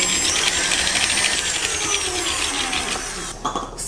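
An electric mixer whirs steadily and loudly through cake batter flavored with vanilla for a blueberry butter cake, a continuous high motor drone with beater rattle that drops off near the end.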